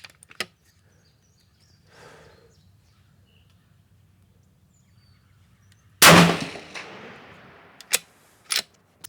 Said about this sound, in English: I am gonna shoot 3 sighters, just to kind of follow the barrel in.